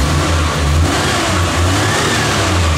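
A Maruti Omni car engine runs and revs up loud and close, a steady rough mid-pitched drone with rising throttle, no voices over it.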